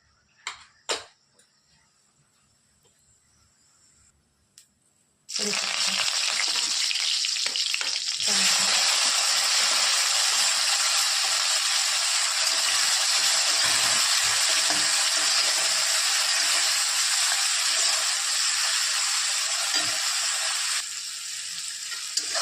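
Stuffed bitter gourd (karela) frying in a pan: a few faint clinks over near silence, then a loud, continuous close-up sizzle bursts in and holds steady until the end.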